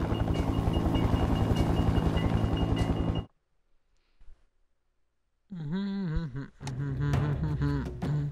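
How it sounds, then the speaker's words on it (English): A helicopter in the video game Battlefield: Bad Company gives a loud, dense rotor thrum and engine roar for about three seconds, then cuts to near silence before voices and game sounds return. "It wasn't the first time I'd flown a chopper"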